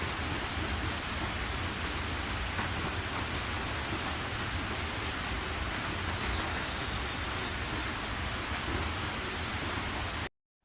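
Heavy rain pours steadily during a severe rainstorm with widespread flooding in China, a dense, loud and constant hiss of downpour lasting throughout before cutting off abruptly at the end.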